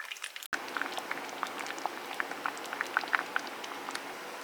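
Mango chutney simmers in a pot, giving a quiet, steady bubbling with irregular soft pops and blips after a brief click at the start.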